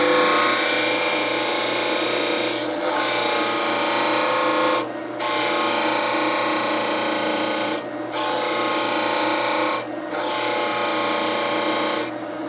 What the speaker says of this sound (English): So I've just brought it over to my disc sander.